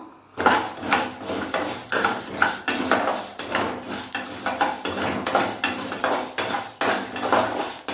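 Coriander seeds dry-roasting in a metal kadai, stirred briskly so the spoon clatters and scrapes against the pan in quick repeated strikes over a rustle of rattling seeds, loud and close, with no talk.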